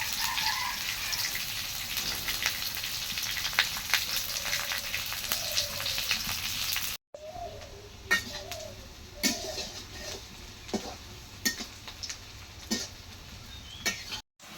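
Whole spices sizzle in hot oil for a Bangladeshi Eid beef curry made with qurbani meat, a steady close crackle with sharp pops and drips, briefly cut off midway before resuming more sparsely.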